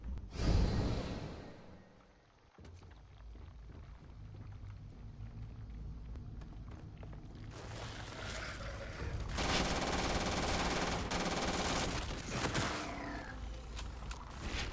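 Video game gunfire crackles in rapid bursts, first a sharp volley at the start, then sustained dense automatic fire with whooshing effects in the latter half, loud and close.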